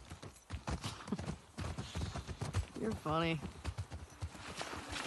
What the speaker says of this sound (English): You're gonna have to leave the horses here.